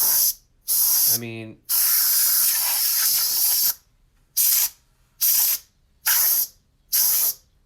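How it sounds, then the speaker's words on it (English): Compressed air sprayed through the grill of a dusty PS4 console, loud hissing bursts: one long blast, a ratcheting click, another long blast, then four short evenly spaced sprays. Someone briefly says a few words. "I'm gonna try to blow this out with some compressed air now. I'm gonna go in through the grill."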